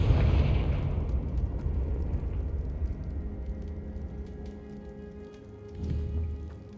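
Fiery spell blasts from the Confringo charm in Hogwarts Legacy, a loud booming explosion at the start that rumbles and decays, followed by a second softer burst near the end.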